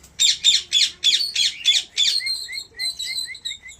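Pet lovebirds give a close burst of harsh rhythmic squawks, about seven in quick succession, then a run of sharper repeated chirping calls.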